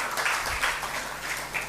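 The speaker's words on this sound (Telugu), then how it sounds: "చప్పట్లు కొట్టి దేవుని స్తుతిద్దాం" A church congregation claps hands in praise during a fasting prayer service, steady crowd applause with rhythmic swells, fairly faint and distant throughout.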